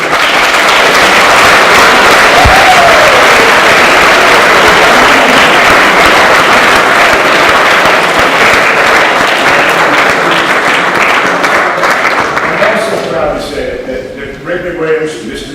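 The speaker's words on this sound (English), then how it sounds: "I'd like everybody, please, for me, give Bob a big round of applause." A chapel audience applauds Bob in a big, sustained round of clapping that fills the hall, holding steady for most of the stretch before thinning and tapering off near the end.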